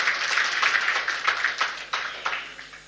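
Scattered clapping from a small conference audience at a state roundtable session in Kaduna, a brief burst of hand claps with distinct sharp strikes standing out, fading toward the end.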